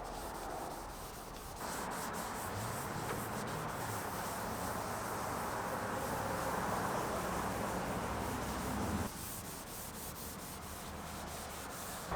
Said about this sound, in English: I rubbed 3 to 4 layers on, sanding in between coats.